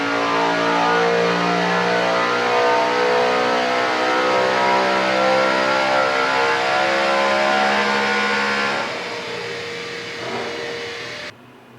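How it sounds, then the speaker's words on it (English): A BMW M3 V8 revs hard on a dyno, a loud, sustained engine roar that holds steady for about nine seconds before easing down and fading out, with no one talking. "Oh my God, the sound of that V8."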